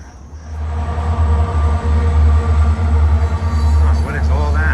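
A freight train hauling grain or wood chips rolls past nearby with a steady, loud low rumble and rail noise throughout, heard at a sod installation site; faint speech-like sounds rise near the end.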